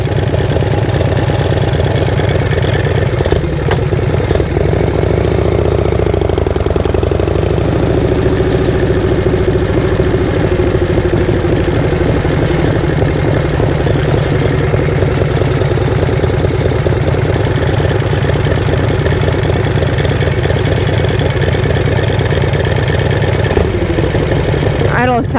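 A motorcycle engine idles steadily and close by for the whole stretch, a continuous low rumble with a slightly raised idle on an evening ride, no clear voices over it.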